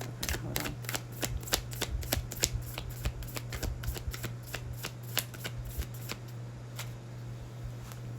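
Tarot cards being shuffled by hand, a run of crisp riffling slaps and flicks in an uneven rhythm, close and fairly quiet over a steady low hum, with no talking.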